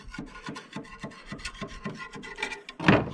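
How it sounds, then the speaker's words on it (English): Rhythmic rasping strokes of a file dressing the side of a chainsaw bar, about a dozen even back-and-forth passes, close up, ending with a louder scrape. "you go right down the side of it and dress the bar, and you can hear"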